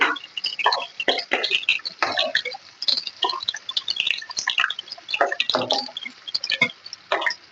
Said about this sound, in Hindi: एक प्याली हम इसमें प्याज जो है बारीक कटा हुआ वो फ्राई करेंगे